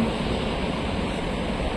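A continuous wash of surf rolls steadily, a soft broad rush with no voices.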